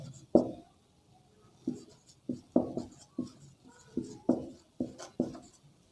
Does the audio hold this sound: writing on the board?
yes